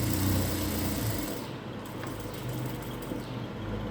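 A sewing machine runs a steady, continuous stitch along a churidar side seam, close and fairly loud, with no talking.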